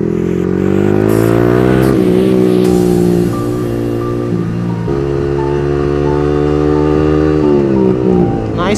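A car passes close by with a loud engine whose revs rise and fall in several smooth sweeps, the tone shifting as it goes past.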